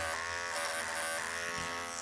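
Electric clippers trim between the paw pads of a standard poodle, a steady close-up buzz running without a break the whole time.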